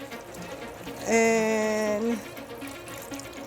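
Water, about two and a half cups, poured into a pot of Dominican-style arroz con pollo, chicken and rice, as a brief close one-second pour with a steady tonal ring.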